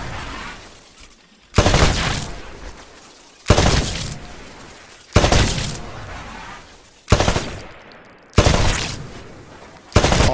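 Rifle shots in Titanfall blast shooting range targets: six loud, sharp bursts arrive every couple of seconds, each with a harsh impact and a short decaying tail before the next.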